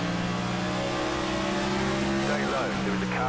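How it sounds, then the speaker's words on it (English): A NASCAR race car in the iRacing simulator at Richmond holds a steady, loud engine drone with rising and falling revs near the end that suggest gear changes, with a voice talking over it. "Sounds like he's shifting."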